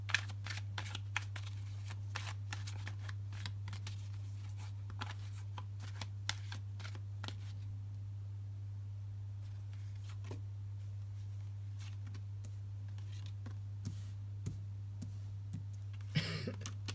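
Tarot cards being shuffled in quick riffling bursts, close and crisp, over a steady low electrical hum; the shuffling pauses briefly midway, then resumes.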